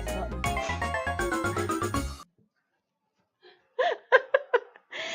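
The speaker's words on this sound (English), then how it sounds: "That's actually Pixie Sarah's ringtone on my phone" A phone ringtone played by pressing a button during a craft shop live show: a bright, melodic jingle of rapid tones for about two seconds, then silence, followed by short bursts of laughter-like sounds.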